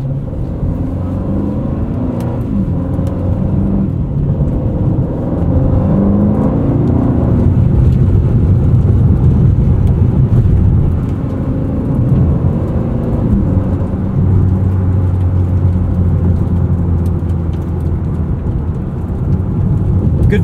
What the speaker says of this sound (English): this 4-liter bi-turbo V8 does sound special